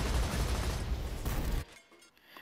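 Rapid gunfire bursts from the Borderlands 2 video game, a dense loud barrage of overlapping shots for about a second and a half, then cutting off abruptly to near quiet.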